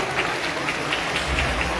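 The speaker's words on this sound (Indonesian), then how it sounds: "Tepuk tangan untuk Pak Bupati kita." Crowd applause for the regent at a Quran memorization graduation ceremony, a brief, even wash of clapping from a large audience in a reverberant hall.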